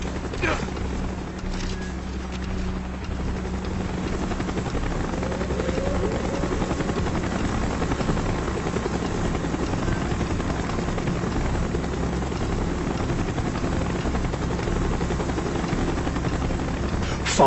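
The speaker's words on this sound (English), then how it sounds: "Chopper's inbound." Helicopter from the video game Call of Duty Black Ops flying in, a steady loud rotor drone throughout with game battle ambience and faint voices underneath.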